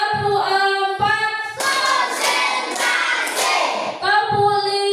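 Students clap in unison in a counted classroom cheer, with short rhythmic hits at the start and end and a long, loud, ragged stretch of applause across the middle, backed by a continuous musical drone.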